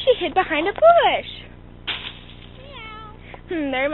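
A human voice imitates a cat with a few close, rising and falling meows, then pauses and gives a couple more drawn-out mews.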